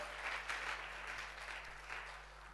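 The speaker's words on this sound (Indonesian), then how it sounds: "tepuk tangan bagi Allah kita" A church congregation clapping together during a sermon, a moderate continuous patter of hands heard at a distance beneath a low steady electrical hum.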